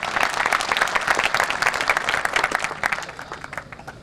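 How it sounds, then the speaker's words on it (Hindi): A crowd applauds the team at the Descon BHP Zamzama Phase-II project safety celebration, a steady dense clapping that carries on for several seconds before gradually thinning and fading. "तो रमजान साहब के लिए और उसकी टीम के लिए तालियां।"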